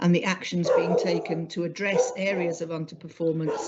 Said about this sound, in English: apologies for my noisy dog again